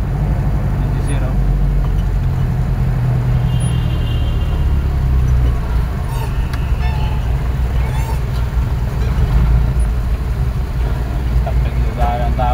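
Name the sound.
road traffic noise around a delivery truck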